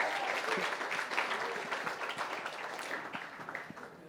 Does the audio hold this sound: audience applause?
yes